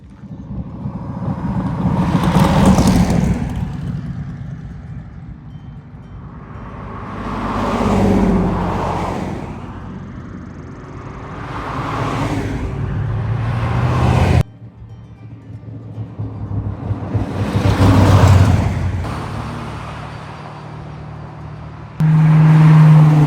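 Several cars pass one after another on a mountain road in Big Sky during a drag-and-drive event, each swelling loud as it approaches and fading away, engines revving, heard alone without talk.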